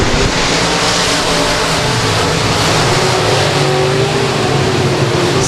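A pack of limited modified race cars thunders past at a speedway, engines roaring loud and close in a dense, continuous rumble with no one audibly talking.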